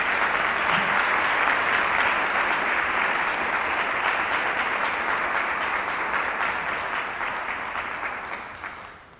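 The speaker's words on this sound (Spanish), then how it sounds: "Un aplauso para ellos," An audience at a talk on faith by a priest claps steadily in a sustained burst that gradually fades toward the end.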